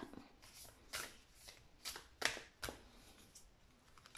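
A deck of oracle cards is shuffled and cut by hand. Quiet, close riffling and slapping bursts repeat in an uneven rhythm, with sharp card snaps and no talking.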